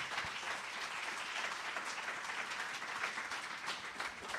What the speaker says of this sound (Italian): Apláudale que Dios vive.